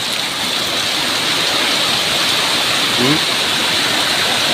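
Heavy rain driven by strong wind pours down outdoors near a parking area, a dense, steady roar that stays loud and unbroken throughout.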